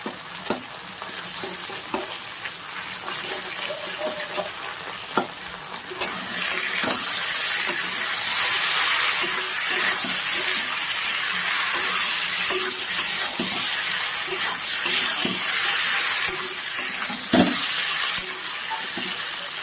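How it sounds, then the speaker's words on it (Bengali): Vegetables fry in a pan with ground coriander, cumin and chili paste for a pangas fish curry, crackling in a steady sizzle that swells louder partway through, with scattered clinks and scrapes of stirring and no voices. "আমি 2 মিনিট এরকম ভাবে ভেজে নেবো সবজিগুলো"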